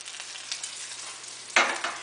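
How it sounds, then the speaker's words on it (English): Thin, breadcrumb-coated chicken breast fries gently in moderately hot oil, a soft steady sizzle with a brighter crackling burst near the end, close and quiet with no talk. "You want to hear a gentle sizzle as you hear here"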